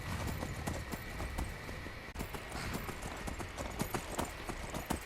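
Horse hooves clip-clop in a steady, rapid gallop in the Skyrim video game, continuous and fairly close across the whole stretch, with a brief dropout partway through and no clear talk.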